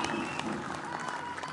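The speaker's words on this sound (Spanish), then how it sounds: "Un fuerte aplauso también a la líder de las mujeres de Acción Nacional" Audience at a political event in Mexico applauding, a faint, steady patter of many hands clapping at a distance, brief and continuous.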